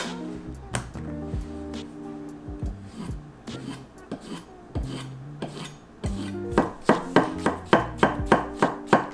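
A knife slices through a whole Meyer lemon, peel and all, on a cutting board, giving a run of close, crisp cuts that speed into an even, rhythmic chopping toward the end over a faint background hum.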